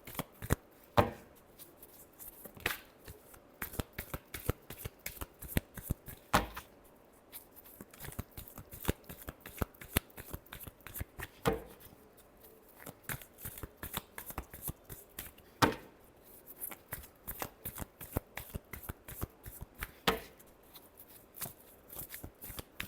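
Tarot cards are riffled and shuffled by hand in quick crisp bursts of sharp flicks and taps, fairly quiet and close, repeating steadily without talk.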